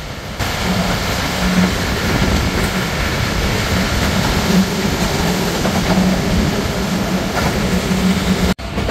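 The Titumir Express, a new white-rake passenger train, runs through Tilakpur railway station without stopping in the rain, a loud steady rumbling roll of carriages with faint rhythmic wheel beats, heard from onboard, ending in a brief dropout.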